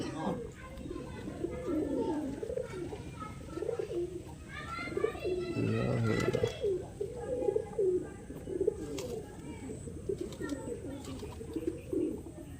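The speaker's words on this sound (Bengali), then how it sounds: "পায়রাগুলো বেশ সবই সাইজের পায়রা" Pigeons coo repeatedly in soft, rolling calls, close by, while people talk over them.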